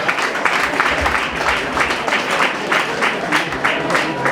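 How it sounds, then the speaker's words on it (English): An audience at a ceremony honoring recipients of doctorate awards claps continuously, the clatter pulsing in loose waves and holding a steady volume throughout. "a round of applause wherever you are"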